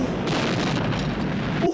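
A huge explosion from the 1967 film You Only Live Twice, with a volcano erupting: a loud, sustained roaring blast with a deep rumble that holds steady and cuts off abruptly at the end.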